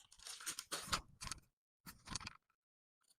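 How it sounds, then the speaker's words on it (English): Scissors snip through fabric in a few quick bursts, crisp cutting sounds close by, with a pause between the cuts. "Please watch how I'm cutting this is the zipper part."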